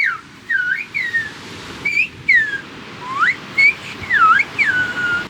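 Silbo Gomero, a whistled language produced with a finger in the mouth, rings out as a series of sharp, piercing gliding whistles in short bursts, rising and falling in pitch over faint background noise.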